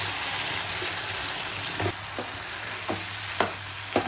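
Chicken pulao gravy with chicken pieces bubbling and sizzling in an oily pot, a steady frying hiss with a few soft pops and clinks spaced through it, close and moderately loud, no talking.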